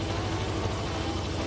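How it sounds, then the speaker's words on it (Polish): A Benelli BN125 motorcycle idling, a steady low, even engine rumble held at constant level through a short stretch, close by with no speech. "Na razie motocykl pracuje."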